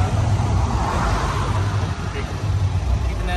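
Vehicles sit jammed on a highway, engines idling in a dense, continuous roadway drone, with people talking over the steady traffic noise.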